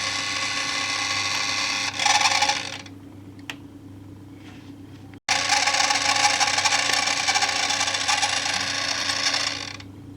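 Onkyo K611 cassette deck with a missing belt, its mechanism whirring and rattling in a loud, harsh grinding run, then a click and a brief pause before a second long grinding stretch that fades near the end.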